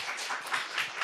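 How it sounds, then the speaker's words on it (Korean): A church congregation gives brief applause during a Korean Sunday worship service, a short flurry of soft, fairly faint hand claps. "우리 하나님 박수 올려드려"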